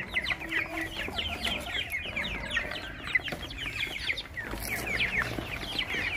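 A flock of chickens at a farmyard vegetable plot clucks and chatters continuously, several birds calling over each other at moderate distance, without any speech.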